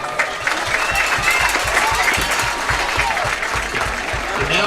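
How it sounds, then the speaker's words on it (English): A crowd at a high school homecoming football game claps steadily for a homecoming court member, a continuous close wash of applause with a faint voice underneath. "Please give a round of applause for homecoming court member Raiden Osborne"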